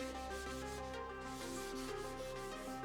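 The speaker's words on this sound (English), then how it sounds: "Best would be some steel wool, but not having that handy, I'm just gonna rub it with this." Paint being rubbed off a mini lathe part with a steady scratchy abrasive rubbing, close and continuous for a few seconds with no pauses and no talk.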